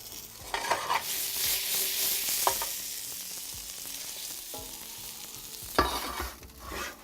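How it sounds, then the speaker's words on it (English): Potatoes tossed and stirred in a hot pan for wood-fired fish and chips give a steady frying sizzle, with a few scraping bursts and shakes of the pan, close and without talk. "My potatoes will need a toss."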